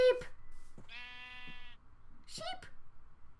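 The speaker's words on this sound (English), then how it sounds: "Oh, sheep!" Sheep in the video game Minecraft bleat in a long harmonic cry, followed a moment later by a second shorter bleat, close and clear, with a person talking excitedly around the sounds.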